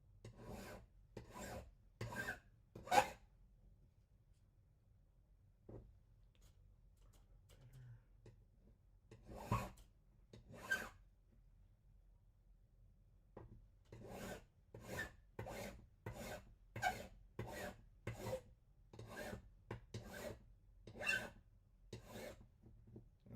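A slate pendant is filed on a jeweller's file in quiet, rhythmic rasping strokes: a few quick strokes, a pause with a faint scrape, then a long, steady run of about a dozen even strokes close by.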